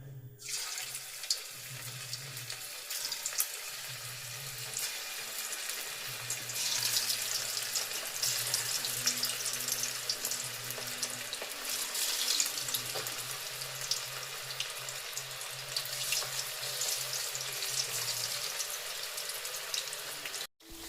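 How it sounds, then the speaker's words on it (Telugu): Chicken pakoda pieces coated in masala frying in hot oil, a steady bright sizzle and hiss running continuously throughout, close and fairly loud, with no talking. "ఇప్పుడు దాన్ని మనం పకోడీ వేసుకుందాం."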